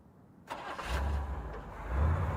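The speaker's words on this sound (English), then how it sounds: "Then a car starting." A car engine starts in a radio drama scene, kicking in abruptly and settling into a steady low idle with a rising rumble toward the end, heard alone without talk.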